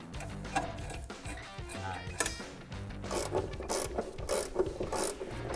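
A hand ratchet loosens a long bolt on a car's suspension bushing, with repeated bursts of rapid, close pawl clicking and some metallic rubbing between strokes.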